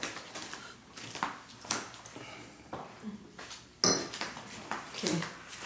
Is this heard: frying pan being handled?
yes